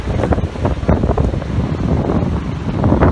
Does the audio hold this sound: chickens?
no